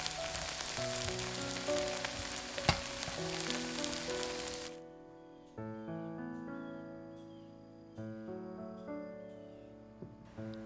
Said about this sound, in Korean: 당근은 소금 한 꼬집 넣어 식용유에 볶아 결쳐 식혀줍니다